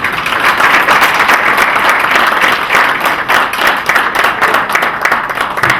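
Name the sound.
applause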